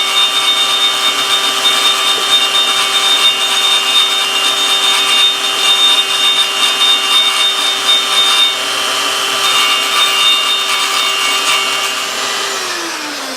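Scratches are worked off the metal surface of a Dinky Avro model during a restoration, producing a loud, continuous abrasive whir with a steady high whine. It runs unbroken, easing off slightly near the end, and no one speaks.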